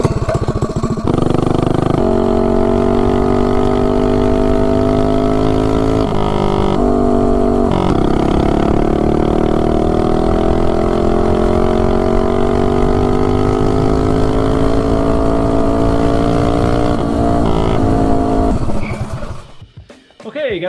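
A mini bike engine with a short standard header exhaust pipe runs loud and close, a steady buzzing drone whose pitch rises and shifts as it revs, then drops off sharply at the end.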